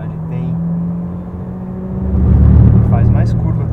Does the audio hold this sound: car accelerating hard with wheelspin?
yes